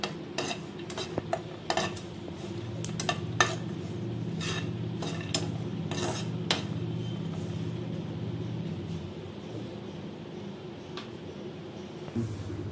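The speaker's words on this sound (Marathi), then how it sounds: "आता शेंगदाणे आणि तीळ खोबरं आता आपल्याला ना मस्त असे भाजून झालेत खरपूस।" Peanuts, sesame seeds and coconut are dry-roasted in a pan, with repeated sharp clinks and scrapes of a spoon stirring over a faint, steady sizzle. The sound is close and rhythmic, with no voices.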